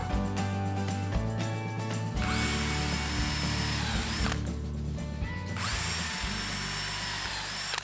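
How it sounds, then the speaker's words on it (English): A power drill pre-drills angled toenail screw holes through timber shelf supports, whirring steadily and close with short pauses between holes and a ratcheting mechanical edge. "I pre-drill some toenail fixings which I can use to screw them to the frame."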